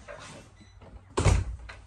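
On a 2023 Forest River Cherokee Limited Edition 304BH bunkhouse travel trailer, the interior door to the bunk area is pushed shut. A light sliding rustle leads into a single firm, close thud.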